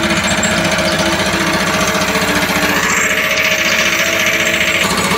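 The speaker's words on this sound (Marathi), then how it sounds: "तर काय तिथं कॉम्प्रेसर चालू आहे आणि तिकडं मशीनला ते हवा मारायले प्रेशरने ते धान काढण्यासाठी" An air compressor runs close by, blasting pressurized air through a grain-cleaning machine, producing a loud, continuous, rapidly pulsing mechanical rattle with a steady hissing roar on top.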